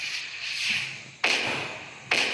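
Sharp firecracker bursts in a Diwali fireworks video game, two sudden bright cracks about a second apart, each decaying into a crackling hiss over a steady background hum.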